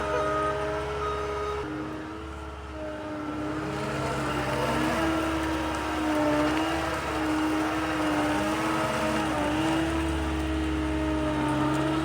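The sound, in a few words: car engine driving in reverse through a bog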